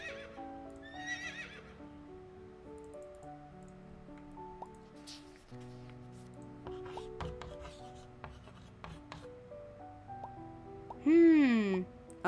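A game horse gives a loud, close, shaking whinny near the end, after a stretch of soft music with scattered drips and clops; a voice is heard in the mix.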